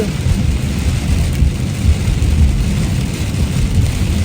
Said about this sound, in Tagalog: Sobrang kapal talaga ng ulan.